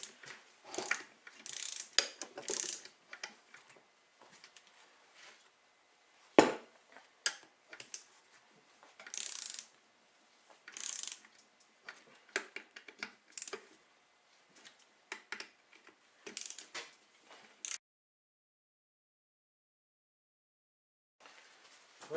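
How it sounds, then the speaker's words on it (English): An inch-pound torque wrench ratchets bolts snug, giving crisp, close clicking bursts of varying length with short pauses between them, then falling silent at the end. "This is an inch-pound torque wrench, so you've got to make a conversion all the time."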